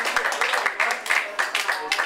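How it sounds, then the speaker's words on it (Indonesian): Students applauding a student council chair candidate at a school assembly, with continuous mid-level clapping from a crowd, uneven and bursty throughout. "Baik, kita beri tepuk tangan sekali lagi untuk teman calon ketua OSIS."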